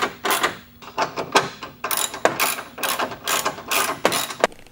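Bolts being screwed back in on a Hummer H3 headlight, heard as close, sharp ratcheting clicks in short repeated bursts with brief pauses between strokes.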